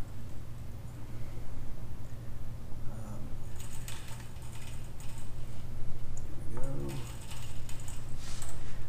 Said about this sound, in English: I was basically jacking it up in half-inch increments.